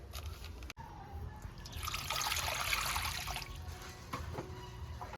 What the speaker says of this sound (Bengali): ফুলকপিটাকে একটু গরম জলে ধুয়ে নেবো